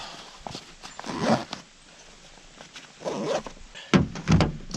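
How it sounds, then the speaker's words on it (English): Mystery Ranch Pintler hunting pack being zipped up, a few quick rasping zipper pulls at close range in short bursts. "Zip this up."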